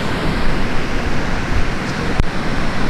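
A small waterfall, heard from a bridge, rushes as a constant broadband wash of water with a single sharp click near the end and no speech.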